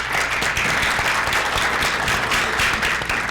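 A conference audience in Belém applauds the speakers at a distributed-generation forum, with steady, dense clapping throughout a short burst and no voices on top.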